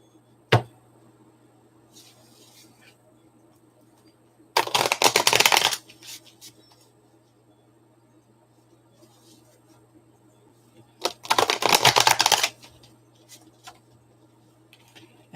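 Two brisk bursts of tarot cards being shuffled, each about a second long, separated by quiet room tone with faint clicks.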